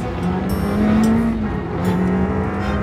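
A car engine accelerating hard, a loud, steady rising drone with a tonal whine that dips and climbs again, heard from inside the car with no talk over it.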